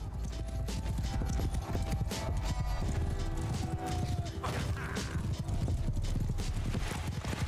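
Galloping horse hooves in Mount and Blade Bannerlord, a steady rapid clip-clop running throughout over a dense battlefield din with occasional whinnies and clashing mechanisms.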